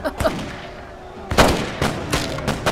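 Cannon and gunfire ring out during a pirate ship battle in the video game Tempest: several sharp booming shots in quick succession, near and loud, with reverberating tails between bursts.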